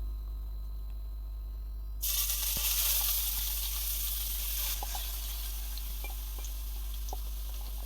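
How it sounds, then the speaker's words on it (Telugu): Carrots drop into hot ghee in a pan for halwa, bursting into a bright, steady sizzle partway through after near quiet, with faint clicks of a utensil scattered through the frying. "క్యారెట్ను పచ్చి వాసన పోయేంత వరకు మనం దీన్ని బాగా ఫ్రై చేసుకుందాం."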